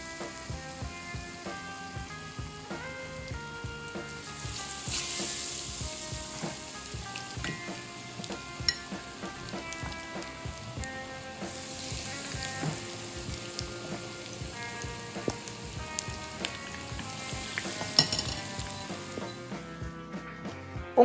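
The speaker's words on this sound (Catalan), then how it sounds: "amb l'oli ben calent, posarem a fregir el nostre bacallà" Battered cod fries in hot oil, crackling and sizzling steadily with a fine, dense spatter of pops, continuous and close, with no talking.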